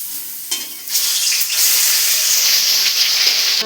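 Garlic paste hits a hot pan of chicken curry with a sudden sizzling burst, then settles into a loud, steady frying hiss close up.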